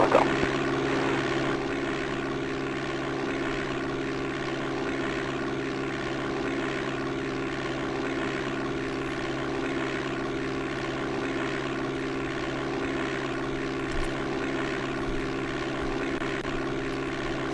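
A propeller airplane taking off in the DOS game Flight Simulator 5.1, its engine holding a constant loud droning hum with a steady tone throughout and no voices over it.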